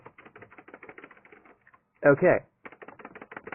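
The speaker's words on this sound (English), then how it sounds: "I'm pressing down on the keyboard, up on the keyboard, left, right, whatever." A USB computer keyboard's keys are pressed in rapid runs of crisp, close clicks while playing Minecraft, pausing briefly as a voice speaks a single word before the tapping resumes.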